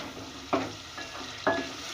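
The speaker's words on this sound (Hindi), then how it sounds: "अब मैं इसको भून लेती हूँ अच्छी तरह।" Tomato and onion masala for arvi gosht being fried and stirred in a pan, with two distinct scraping stir strokes over a soft, steady background sizzle, close and fairly quiet.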